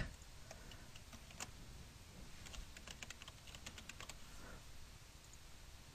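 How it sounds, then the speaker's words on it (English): Computer keyboard keys clicked in quick irregular bursts during animation editing work, light close taps against a faint steady background hiss with no talking. "I keep hitting the wrong key there."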